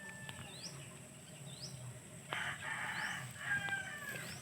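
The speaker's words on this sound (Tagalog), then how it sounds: "yung mga manok na pula" A red rooster crows several times in quick succession, each call a fairly close, rising cry. Short clucks and faint background noise sit between the crows.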